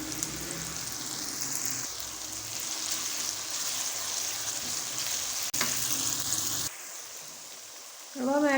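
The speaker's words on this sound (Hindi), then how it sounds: "टमाटरों को थोड़ा सा फ्राई करने के बाद अब हम ऐड करेंगे अदरक लहसुन का पेस्ट 1 टेबल स्पून" Tomatoes frying with ginger garlic paste in a pan for a white lobia masala curry, giving a steady moderate sizzle with soft stirring scrapes, a sharp clatter midway, then a quieter hiss before a louder burst at the end.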